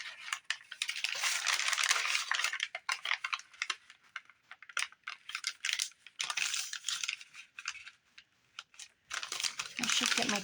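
Paper sheets for simple mini journals are folded and creased by hand, producing close, irregular bursts of crinkling and crisp rustling that come and go across the clip.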